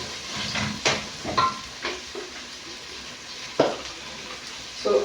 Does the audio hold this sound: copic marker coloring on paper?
no